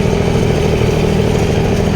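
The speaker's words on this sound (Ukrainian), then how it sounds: "витягує подобається дойцівський мотор, він собі пах-пах-пах і пішов" A German engine on a field vehicle climbs a small hill, running steadily on its own without throttle, a low, even, rhythmic thrum close by throughout.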